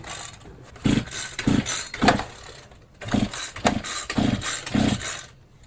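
A string trimmer engine being pull-started without firing: a series of loud, rhythmic cranking bursts in two runs, close and with no talking.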